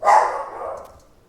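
A house dog gives a single loud, close bark that trails off over about a second, with no talk around it.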